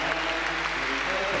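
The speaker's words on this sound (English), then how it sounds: "a great round of applause as Jane and Chris lead the last group onto the ice for a warm-up for their free dance" Arena crowd applauding ice dancers Torvill and Dean as they lead the last group onto the ice at the 1993 British Championships, with a broad steady roar of clapping and a voice talking over it.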